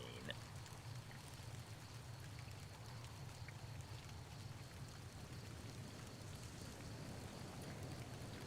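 Rain falls in the video game Fallout: New Vegas, in its Old World Blues add-on: a faint, steady patter and wash of droplets that holds level throughout with no speech.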